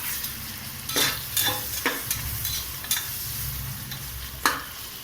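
Steady sizzling of tomatoes sautéing in a hot frying pan with a few scraping stirs of a spoon, close and fairly loud, no talking.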